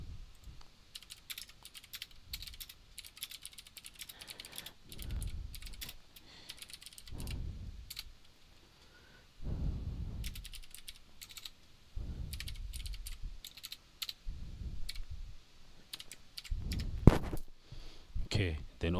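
Fast clicking keystrokes on a computer keyboard come in bursts, close and fairly quiet, while someone talks over them.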